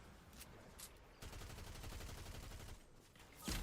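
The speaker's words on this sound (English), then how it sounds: "Oh, I just got sniped." Gunfire in Fortnite, a quiet rapid volley of shots rattling for a couple of seconds, ending in a sharper single crack, with no voice over it.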